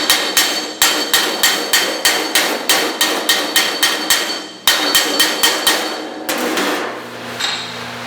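Rapid, sharp metallic hammer blows planishing sheet metal on a street rod restoration in steady bursts, dozens of strikes with brief pauses between runs, close and loud.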